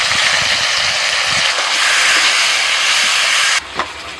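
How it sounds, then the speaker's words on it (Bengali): Potatoes sizzle in hot oil with ginger, green chilli and cumin paste, giving a loud, continuous hiss that cuts off abruptly near the end. "মশলার সাথে আলুটাকে কিছুক্ষণ কষিয়ে"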